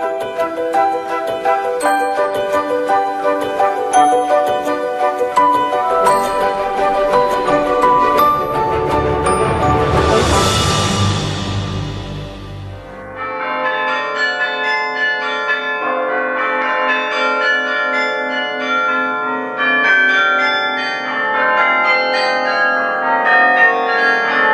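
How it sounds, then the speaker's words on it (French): Carillon bells ring from the top of a belfry in a flat-country town, dense overlapping bell tones carrying a melody over a sustained, loud wash of chimes, with no talking. "Ils résonnent au coin des rues du plat pays. Depuis 500 ans, les carillons sonnent, perchés au sommet des beffrois"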